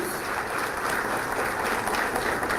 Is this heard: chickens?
no